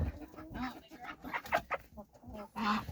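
Hens cluck in a homestead chicken coop, a close, busy run of short throaty calls and murmurs that rise and fall, with a few brief voices mixed in.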